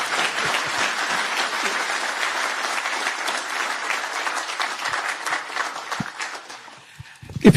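An audience breaks into loud, sustained applause, dense overlapping clapping that fills the room steadily before thinning out and tapering off near the end.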